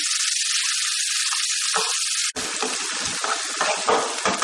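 Prawns and onions sauté in a pan with a loud, steady sizzle, joined after a brief break by stirring scrapes and rattles against the pan; no one talks.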